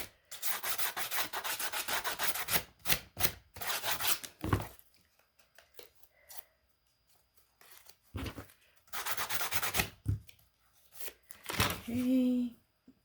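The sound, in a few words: sanding block sanding paper edges for a junk journal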